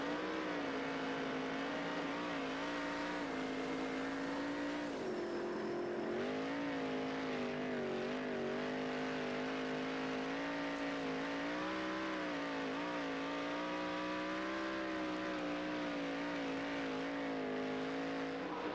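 Sprint cars roar around the dirt track in a B feature at the 2003 Knoxville Nationals, a dense, continuous engine howl that rises and falls as the pack races past.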